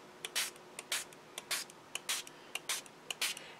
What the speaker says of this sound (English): And then you're going to just spritz it with water. This is the Nuvo Light Mist spray bottle.